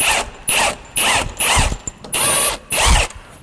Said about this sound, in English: your 24mm socket and spanner on the lower link